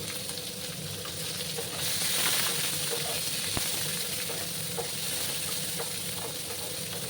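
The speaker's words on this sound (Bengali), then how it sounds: "পেঁয়াজগুলোকে আমি একটু লাল লাল করে ভেজে নেবো বন্ধুরা" Chopped onions frying in oil in a pan, a continuous close sizzle with occasional stirring clicks, swelling slightly midway.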